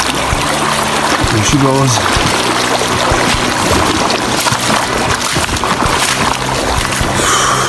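Someone wades through Cache Creek in Yellowstone's Lamar Valley, with water sloshing and rushing loudly and continuously close by as a person speaks briefly.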